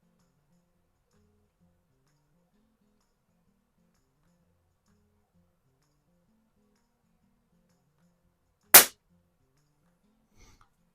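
A single sharp crack from a Hammerli AP-20 PCP air pistol fired at a target, loud and abrupt in near silence, followed by a faint tick a couple of seconds later.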